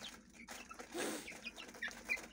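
A hen clucks among her newly hatched chicks as they feed, with soft, thin peeps scattered over low, close clucking and faint rustling, and no voices.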